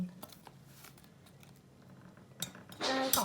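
A spoonful is added while Turkish coffee is being made, giving a few sharp metallic clinks of a spoon against a cup or pot, spaced apart, with a louder cluster of clinks at the end.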